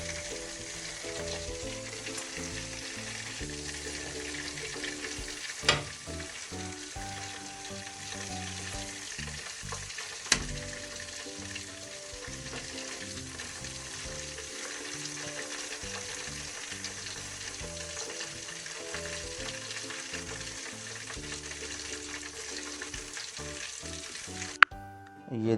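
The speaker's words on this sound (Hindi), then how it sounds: "चिकन हमारा फ्राई हो चुका है" Chicken drumsticks deep frying in oil give a long, even, fairly quiet bubbling sizzle that barely changes, broken by a few isolated clicks near the end; nobody talks.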